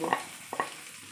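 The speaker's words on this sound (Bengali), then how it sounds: "পেঁয়াজটাকে ভেজে নেব" Onion frying in a kadai for a Bengali fish-in-sauce dish, with two brief bursts of sizzle and stirring a moment apart, then a faint steady hiss.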